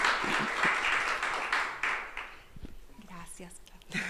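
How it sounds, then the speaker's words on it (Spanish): Audience clapping at a women's church conference, a dense burst of applause that fades after a couple of seconds as voices and murmuring take over. "Le damos un aplauso"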